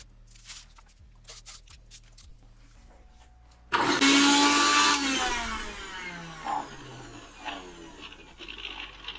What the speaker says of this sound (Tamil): எல்லாமே அரைஞ்சி கொஞ்சம் தைல மரம் இலையும் போட்டுக்கலாம்